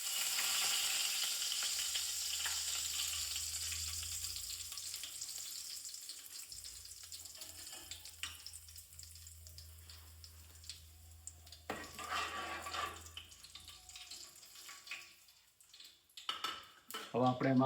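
Curry leaves and asafoetida sizzling and crackling in hot oil while tempering curd, a steady frying hiss with stirring and clinks of a pan near the mic, growing busier and louder toward the end.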